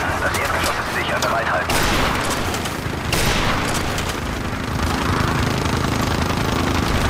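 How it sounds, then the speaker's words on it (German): Dense rapid gunfire and bursts rattle loudly and continuously in a firefight in Call of Duty Modern Warfare (2007), with voices talking over the shooting. "wir stehen unter Beschuss durch eine befestigte Position im vierten Stock"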